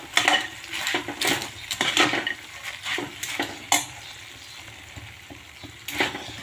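Poha being stirred into sugar syrup in a pan for sweet corn poha, with irregular scraping, clinking strokes of the spoon against the pan and soft sizzling between them.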